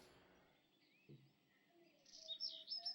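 Birds in the video game Amanda the Adventurer 2 chirp in faint, scattered calls, a few thin tweets building toward a brighter flurry at the end over a quiet background.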